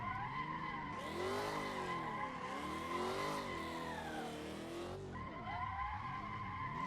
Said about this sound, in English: We're slowly getting better at holding the drifts